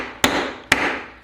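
A hammer strikes twice, sharp and close, each hit followed by a short ringing decay, about half a second apart.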